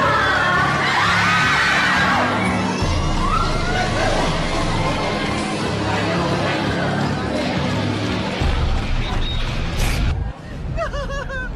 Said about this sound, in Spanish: Gritos escalofriantes en un zoológico de Anchorage, Alaska.